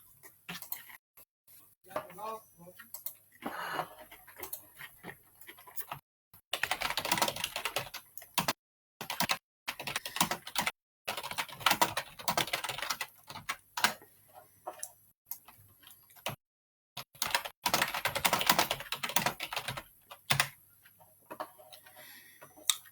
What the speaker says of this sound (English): Jen isn't doing the typing